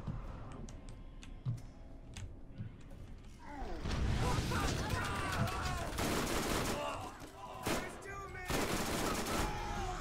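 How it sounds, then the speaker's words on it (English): Bursts of gunfire in the Borderlands video game, with crackling rapid shots and sharp clicks, quieter at first and then denser and louder in repeated volleys, with a voice talking underneath. "Let me shoot all the bullets!"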